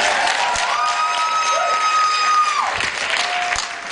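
A live audience applauds during a concert broadcast, with steady, dense clapping throughout and a sustained whistle-like tone ringing over the crowd.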